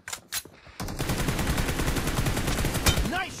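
Rapid bursts of automatic gunfire from a team-based shooting video game, loud and dense, with game voice callouts mixed in and a rising whistle-like effect near the end.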